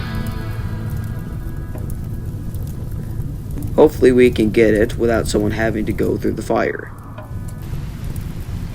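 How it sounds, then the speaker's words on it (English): Steady rain falling in modded Rimworld, a constant soft hiss under a voice talking through much of the stretch, moderately loud and continuous throughout. "And conveniently the rain came"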